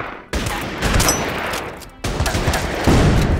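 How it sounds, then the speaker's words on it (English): Gunfire from units opening fire in the wargame Order of Battle: Burma Road, dense overlapping shots in loud, sustained bursts, with a brief gap before another volley, no talk. "We're gonna go ahead and open fire."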